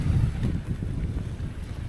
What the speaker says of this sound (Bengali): ছাতা ধরে রাখা যাচ্ছে না, প্রচুর হাওয়া।